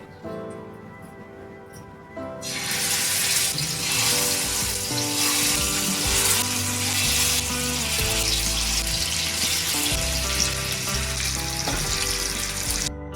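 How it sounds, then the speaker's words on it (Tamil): Fish frying in oil on a flat griddle pan in a village kitchen, a loud, steady sizzle that starts after a couple of seconds and continues densely to the end, with no talking. "வாசக்கல்லில் எண்ணெய் ஊற்றிட்டு மீன் வச்சுக்கலாம்"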